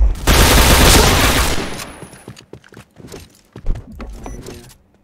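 A loud sustained burst of automatic gunfire opens an exchange in the online shooter Point Blank, followed by scattered shots, clicks and gear rattles as the firing fades.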